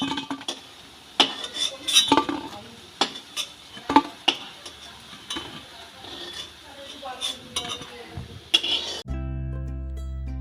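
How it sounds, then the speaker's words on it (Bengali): Fried drumstick flower fritters lifted from a frying pan with a metal spoon, giving sharp, repeated clinks and scrapes over a faint sizzle of oil. The sound stops abruptly near the end. "সব সজনে ফুলের বড়াগুলো ভেজে নিয়েছি এবার তুলে নেব"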